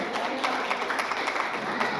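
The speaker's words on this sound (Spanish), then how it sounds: "Vamos a dar un aplauso al Señor por la vida de nuestros hermanos." Church congregation breaks into applause for the Lord, a dense steady patter of many hands clapping at moderate volume with faint murmuring mixed in.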